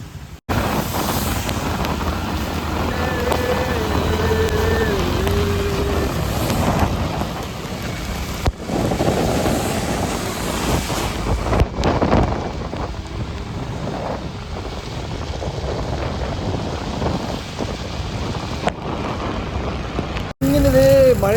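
Heavy wind buffets the microphone while rain pours during a rainy ride, a loud continuous roar with gusts and brief drops, and faint voices now and then.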